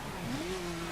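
Alfa Romeo 4C engine in the racing game The Crew with nitro engaged, a brief steady engine drone that rises slightly in pitch.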